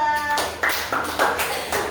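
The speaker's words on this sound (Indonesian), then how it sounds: "Tepuk tangan untuk kelompok 2" Classroom applause for a student group during a coding lesson, a few sharp distinct clap bursts in about two seconds, close and fairly loud, after a faint trailing tone.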